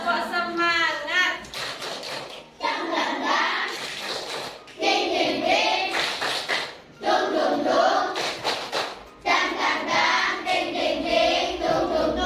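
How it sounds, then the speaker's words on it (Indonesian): A group, apparently a class, performs a rhythmic spirit clap: bursts of patterned clapping chanted along with voices, stopping and restarting in several short rounds. "Kita tepuk semangat dulu ya."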